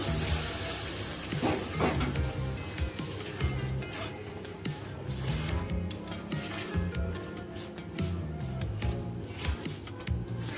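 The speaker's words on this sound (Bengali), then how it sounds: "এখন আমি সুজিটা দিয়ে দিচ্ছি, দিয়ে মিশিয়ে নিচ্ছি।" Semolina poured and stirred into milk in a pan for a sweet dessert, giving soft continuous scraping, squishing and stirring sounds with small clinks of utensil against the pan throughout.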